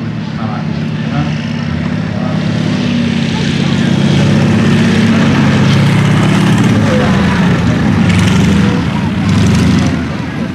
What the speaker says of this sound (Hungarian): Egyébként egy cseh tervezésű és gyártású repülőgépről van szó